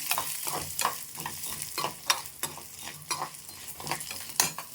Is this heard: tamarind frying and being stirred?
yes